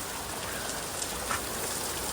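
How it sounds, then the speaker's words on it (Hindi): Heavy rain falls outside a house, a steady dense hiss of drops on surfaces with a couple of slightly louder spatters, continuous and without talking. "अम्मी बाहर काफी तेज हो रही है बारिश"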